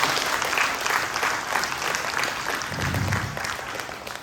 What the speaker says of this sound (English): I think our Vyas deserve a round of applause